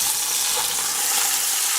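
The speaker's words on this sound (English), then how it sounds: "You can hear that olive oil sizzling." Lamb shanks searing in hot olive oil in a pan, a steady bright sizzle and crackle, close and continuous with no talking.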